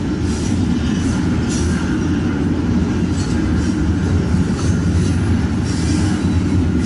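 A long combined freight mega train rolls steadily past close by, a loud continuous rumble and rattle of wagons with rhythmic wheel clicks and faint squeals, no voices.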